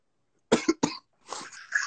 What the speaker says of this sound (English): Yo, I'm coughing all year round